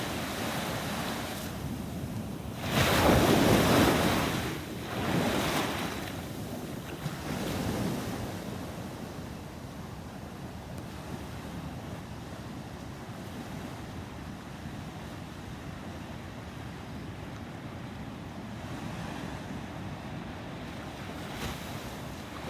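Ocean waves and wind at a shoreline: a few loud surges break near the start, then a steady wash of surf and windy rumble continues.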